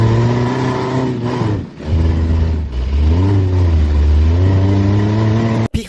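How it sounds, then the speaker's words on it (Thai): A custom-built off-road buggy engine revs loud and close, rising and falling in pitch through repeated throttle blips on a mountain trail in Phrae, with a brief cut near the end. "ขึ้นมาด้วยรถบักกี้สุดเท่"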